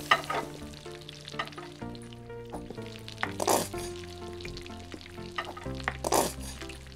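Food cooking in the Kebab Chefs! Restaurant Simulator game, a steady frying sizzle under droning game music, with occasional clicks and two brief hissing bursts.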